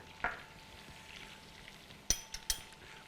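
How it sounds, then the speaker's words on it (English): Garlic frying in a pan for garlic bread, with a soft steady sizzle and a few sharp utensil clinks against the pan as it is stirred, close and without talk. "Let's stir it up a bit."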